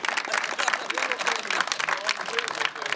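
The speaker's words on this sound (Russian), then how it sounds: "Хлопаем." Audience at a film premiere applauding, a steady crowd of clapping hands with faint voices mixed in, moderately loud and continuous.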